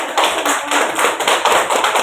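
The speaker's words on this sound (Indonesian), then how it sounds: "Tepuk tangan dulu." A group at a school workshop clapping hands in unison, a loud, close run of quick rhythmic claps in a steady beat lasting about two seconds.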